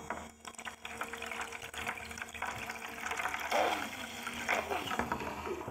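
A mini 3-9V DC submersible water pump pushes water out in a steady, continuous splashing and gurgling stream, close and moderately loud for the whole stretch.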